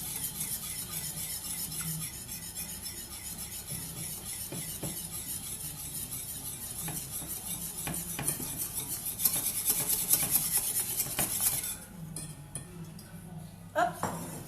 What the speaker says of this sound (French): vous rajoutez 120 g de poudre d'amande. Et vous mélangez aussi.